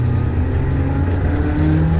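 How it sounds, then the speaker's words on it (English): A BMW 1 Series SuperCup race car pulls out of the pit lane during a BRSCC race, its engine a loud, close, steady drone with slightly rising tones over a couple of seconds. "Out goes the BMW 1 Series SuperCup car."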